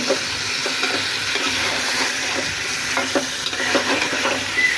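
Sweet pumpkin stirred in a cooking pan on the stove: a steady sizzle of frying with soft, irregular scraping and stirring strokes, close up and continuous, no one speaking.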